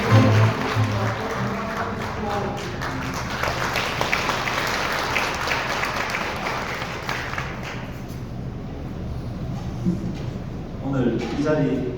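An audience applauding as a city mayor is invited forward at a press reception in a wedding convention hall, sustained clapping filling most of the time before fading as a man's speech begins.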